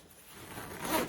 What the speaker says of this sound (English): Pull the zipper up.